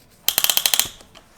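A piston ring clamp ratchets tight around a piston during a top-end rebuild of a Suzuki Intruder VS1400 engine, giving a quick close run of about eight crisp clicks followed by a couple of fainter ones.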